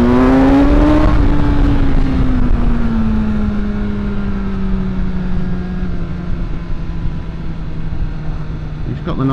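A BMW S1000R motorcycle engine pulls in second gear, a loud, steady drone close to the rider that rises briefly and then holds, with some wind rush.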